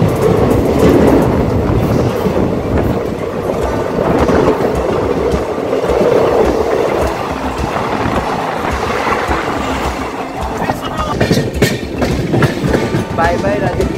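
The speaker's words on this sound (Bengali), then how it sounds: "আমাদের ট্রেন সবে রাজা কি মান্ডি ক্রস করছে।" The Taj Express running on the rails between Raja Ki Mandi and Agra Cantt, heard from on board as a loud continuous rumble with rhythmic wheel clatter and some squeal, and voices talking in the carriage.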